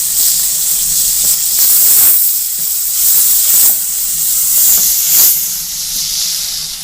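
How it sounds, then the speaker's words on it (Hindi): Masala with tomatoes, red chilli, coriander powder, turmeric and salt fries in a pan, a loud, close, continuous hiss and sizzle that swells each time the mixture is stirred. "इसे अच्छी तरह इतना मसाला भूनेंगे कि ये जो टमाटर है ना बिल्कुल मिक्स हो जाए"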